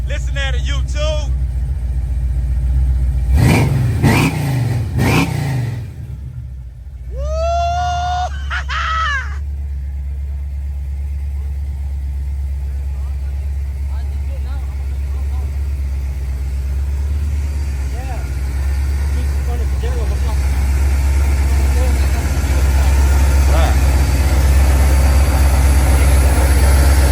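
A 1973 Chevrolet Impala with a big-block Chevrolet engine build rumbles at a loud, steady idle nearby, with a few sharp rising whines early on and someone talking over the engine noise.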